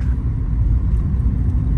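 Tuned Chevrolet Beat engine pulling hard in second gear around 3000 RPM, a loud, steady low rumble heard from inside the car with no talk.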